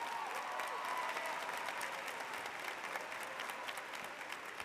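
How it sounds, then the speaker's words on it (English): At a high school graduation, a large crowd applauds for fallen soldiers, a steady, faint and distant sustained clapping across the whole stretch. "Let's give those who have fallen in battle a very rousing applause."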